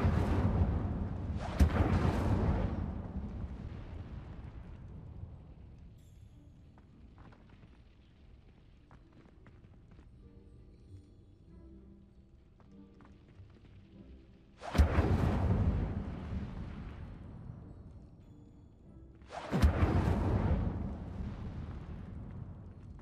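Fire spell blasts in Hogwarts Legacy: three loud, roaring whooshes with explosive bursts, one near the start and two later, separated by a quieter stretch of low rumbling game ambience.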